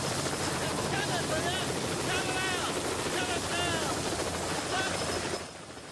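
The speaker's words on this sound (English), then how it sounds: "Alan runs over to the helicopter as it lands." A helicopter lands amid blowing sand, its rotor roar loud and continuous throughout with a steady chopping texture, fading slightly at the very end.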